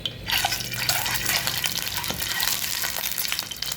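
Boiled eggs with small slits fry in hot oil, giving a dense, steady sizzle with crackling and bubbling throughout, close and loud, with no talking.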